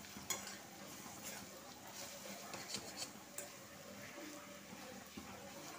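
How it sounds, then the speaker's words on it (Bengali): Ginger and garlic fry in a pan for an egg and poppy seed curry, a faint, steady sizzle with occasional soft stirring clicks and utensil taps against the pan. "এটা আমি খুব ভালো করে আগে ভেজে নিচ্ছি।"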